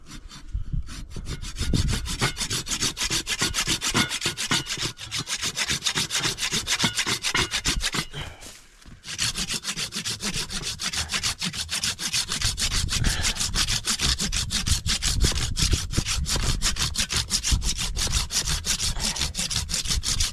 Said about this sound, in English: I'm gonna trim off this end.